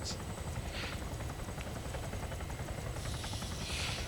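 Helicopter rotor and engine drone from a video game, a steady loud broadband whir holding throughout with bursts of hiss overhead, no talking.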